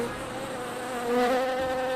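Bees buzz in a Japanese beehive, a continuous close drone of many wings that swells slightly louder midway, with tonal hum layered over a soft background.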